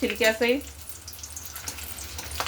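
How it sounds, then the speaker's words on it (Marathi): Whole garlic cloves with skins frying in hot oil for a dry red chutney served with Mumbai vada pav: a soft, steady sizzle and crackle after a brief voice at the start. "आता याच तेलामध्ये आपण एक वाटीभर लसूण तळून घेणार आहोत."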